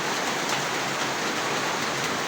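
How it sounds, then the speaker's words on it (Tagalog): Rain falls in a steady, even hiss, close and fairly loud, with no voices or other sounds over it. "At saka ganito lang po kalakas yung ulan."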